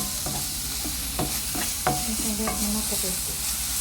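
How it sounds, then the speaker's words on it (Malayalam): A spoon stirs salt into fish masala frying in a pan for an Avoli (pomfret) pollichathu, giving repeated close scraping strokes over a steady sizzle with no talking. "എന്നിട്ട് നല്ലതുപോലെ ഒന്ന് മിക്സ് ചെയ്യാം."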